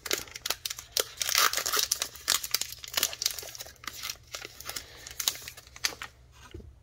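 Foil wrapper of a Topps Heritage baseball card pack being torn and crinkled open up close, with a rapid run of sharp rips and crackles that thins out toward the end.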